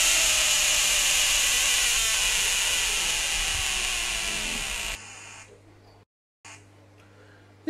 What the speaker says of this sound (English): This is the ornate horned frog from Argentina, which is also an ambush species.